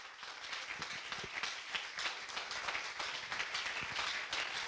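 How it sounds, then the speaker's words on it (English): A church congregation applauding for Jesus, a dense, even spatter of many hands clapping that holds steady throughout, with no voices heard. "Can we applaud for the Lord?"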